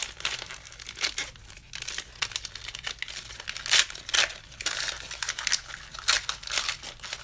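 Fan mail packages being torn open and unwrapped by hand, with repeated close crinkling and ripping of paper and plastic in uneven bursts, plus a few brief spoken words.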